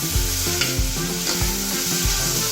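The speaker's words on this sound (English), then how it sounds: "Now we will cook the onions until it is brown" Chopped onions and green chilies fry loudly in a pan, a dense continuous sizzle close by, broken by repeated rhythmic scraping strokes of a spoon stirring them roughly every half second.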